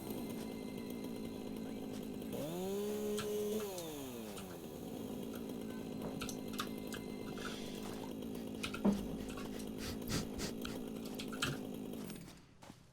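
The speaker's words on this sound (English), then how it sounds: "Couldn't figure out how to turn it off, so you just dropped your chainsaw." Chainsaw in the video game Satisfactory idling and revving steadily for about twelve seconds, with a rising whine as it spins up, a few sharp clicks and knocks along the way, then cutting off abruptly at the end.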